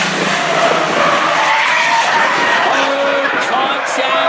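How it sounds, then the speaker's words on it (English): Race cars skid and collide in turn one during a Hornet B class oval race, with loud continuous engine roar and tire noise running throughout, and an announcer calling the action over it. "Contact, it's Aurora and McKee getting together down in turn number 1"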